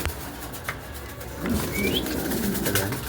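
Pigeons kept by a fancier, soft cooing and a brief chirp or two rising from a quiet background, with faint rustling.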